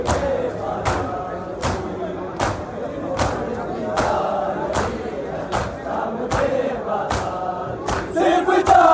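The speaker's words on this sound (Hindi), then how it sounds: "शाम के बाजार की बड़े सारे भीड़ बढ़ती जा रही है" Crowd at an evening market during a Juloos procession at Bahishte Zehra graveyard, Mira Road: dense, continuous murmur of many voices with sharp rhythmic thumps about every second, steady and fairly loud, louder toward the end.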